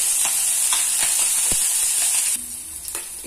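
Finely chopped green chillies fry in refined oil in a pan with a steady, close sizzling hiss and a few soft stirring taps, quieting slightly toward the end.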